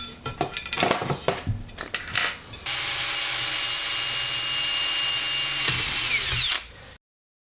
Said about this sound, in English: so got the holes drilled.